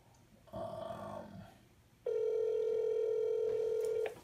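A phone line rings out on an outgoing cold call to a house cleaning business: a softer first tone, a pause, then a long steady ring tone, heard alone and fairly quiet.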